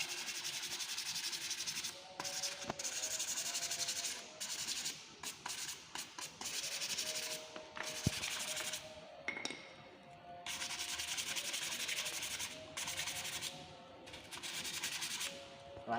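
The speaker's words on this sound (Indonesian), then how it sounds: "Kita bersihkan dengan amplas." Sandpaper rubbed by hand over motorcycle front brake pads, a close, steady scratchy rasping in repeated strokes with brief pauses between passes, no voices.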